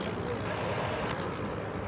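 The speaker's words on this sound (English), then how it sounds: "Confirm, B-25s inbound, hot pass." Piston engines of B-25 bombers roar in a steady, loud drone during a hot pass down the runway at an airshow. Talk is faintly audible beneath it.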